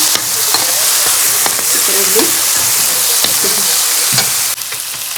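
Peas frying in a pan with tomatoes and spices give a steady close sizzle, with occasional stirring scrapes and clinks over it.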